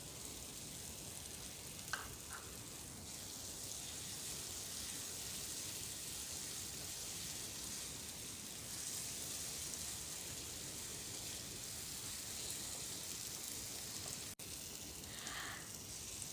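Hog plums frying in spices with raisins for a chutney give off a steady, fairly quiet sizzle that runs without a break. A few faint clinks and stirring sounds break through now and then.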